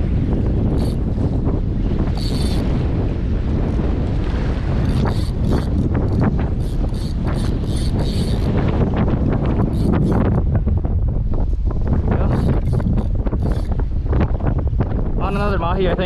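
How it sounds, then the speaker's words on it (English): Strong wind buffeting the microphone during kayak fishing off Hawaii, a loud, constant roaring rumble with water sloshing, and a person talking at times. "this wind is crazy"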